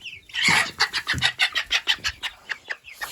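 Chickens and a young rooster in a farmyard give a run of about a dozen rhythmic, close clucks and calls after a short quiet start, with no talking.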